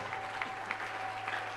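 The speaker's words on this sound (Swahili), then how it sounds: "Tupatie Yesu makofi juu ya neema alitupatie." Applause from a church congregation praising Jesus, steady clapping with a few sharper peaks across the short stretch, moderate and fairly distant, with a faint steady hum beneath.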